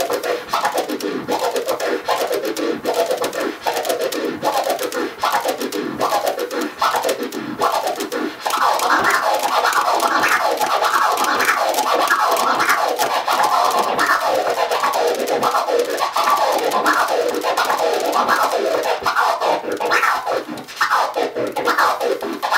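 DJ scratching four-click orbit variations with chirp and flare techniques, a steady run of quick rhythmic scratch bursts in repeating groups, close and fairly loud with no talking.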